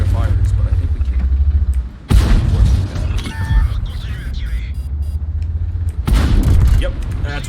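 Booming tank cannon shots and rumbling engines from World of Tanks play beneath someone talking, with heavy blasts landing near two and six seconds.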